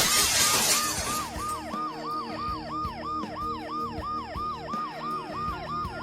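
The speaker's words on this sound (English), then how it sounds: "The noise the ambulance makes will cover the sound of the glass breaking." In the game Dead Synchronicity: Tomorrow Comes Today, a burst of shattering glass at the start, then a loud wailing ambulance siren cycling steadily up and down, with game sounds underneath.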